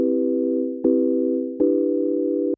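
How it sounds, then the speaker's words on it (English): Pure sine-wave tone from a wavetable software synthesizer, three sustained notes each lasting under a second with clean attacks, loud and steady with no other sounds. "We're going to leave it on a sine wave here."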